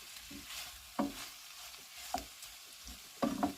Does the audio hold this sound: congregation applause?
no